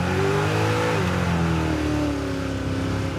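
Roadkill Crusher Camaro accelerating hard on an on-ramp, the engine roaring loud and close with the tone climbing through a gear, dropping at a shift and rising again.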